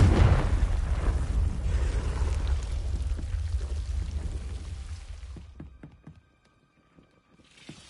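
A Confringo fire spell blasts in Hogwarts Legacy, a loud booming explosion with a rumbling roar that fades over several seconds into near silence, then faint clicks.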